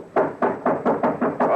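Seven firm knocks land on a wooden door in a steady, evenly spaced rhythm, loud and close, with no voices over them, set in an old Western radio drama.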